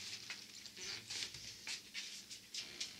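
A dog panting steadily in a home kitchen, rhythmic breathy huffs repeating close by at a low level with no clear barks.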